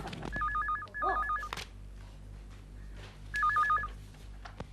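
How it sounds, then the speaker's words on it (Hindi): A landline telephone rings in two bursts of warbling electronic trills with a gap between them, clear and close in a quiet room, with a low steady hum underneath. "डैडी, फोन उठाओ।"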